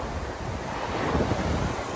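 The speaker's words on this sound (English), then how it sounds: "the waves are getting kind of crazy" Rushing surf from ocean waves breaking on a Malibu beach, swelling in the middle, mixed with wind buffeting the microphone.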